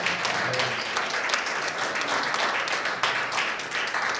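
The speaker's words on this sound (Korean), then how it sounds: "뜨거운 박수 부탁드립니다" An audience at a convention fashion show applauds warmly, producing dense, continuous, even clapping throughout with no voices rising above it.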